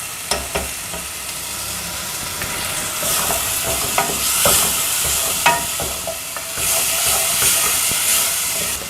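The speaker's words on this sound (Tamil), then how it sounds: "இது ரெண்டும் நல்லா பச்சை வாசனை போகிற வரைக்கும் வதக்கணும்" Green chili paste sautéing with butter in a pan for corn makhani, a steady close sizzle and hiss with repeated scraping stir strokes throughout.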